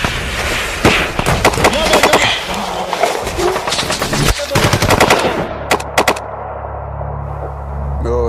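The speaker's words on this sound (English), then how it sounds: "the Adam base came upon simultaneous fire from an unseen enemy" Rapid automatic gunfire from an unseen enemy during a mountain battle in the Kargil war, with dense overlapping bursts of shots that thin out into a few sharp isolated cracks.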